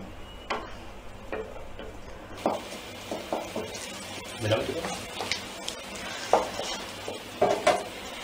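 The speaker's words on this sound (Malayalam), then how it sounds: "ഞാൻ ആ മിക്സിക്കകത്ത് അരപ്പിൻ്റെ ബാക്കി ഉണ്ടായിരുന്ന എല്ലാം കൂടി ഇതിലേക്ക് ഒഴിച്ചിട്ട് അധികം വെള്ളമൊന്നുമില്ല, കുറച്ച് വെള്ളം വെച്ചിട്ട് ഒന്ന് ആവി കയറ്റിയെടുക്കുകയാണ്" Tender jackfruit mixed with ground masala is stirred and steamed in a pan: scraping spoon strokes and clinks against the pan, with a faint sizzle underneath and no talk.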